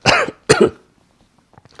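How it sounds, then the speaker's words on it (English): Two sharp, close coughs in quick succession, followed by faint breathing and small mouth noises. "I'm sorry about the coughing"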